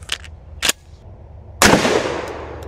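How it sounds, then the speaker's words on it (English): A Beretta A300 12 gauge shotgun fires a slug at a tire target: a couple of brief clicks, then one loud, sharp blast with a long, fading tail. "Sending out a 12 gauge slug."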